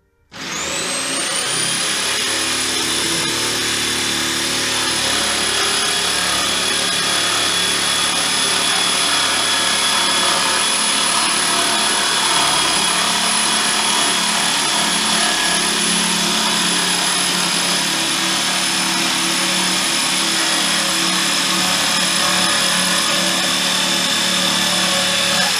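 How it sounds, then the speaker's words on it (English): A jigsaw with speed regulation cuts a wood plank into a round for wax sculpture models, giving a loud, steady motor whine that runs unbroken from start to finish with no voices. "This is really nice, you know, jigsaw, but the thing I like about this, it's speed regulation."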